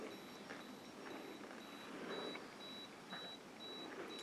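Faint, regular electronic beeping from a PhotoLex Mini Speedlite G1 camera flash repeats about twice a second, steady and thin against a quiet background hiss.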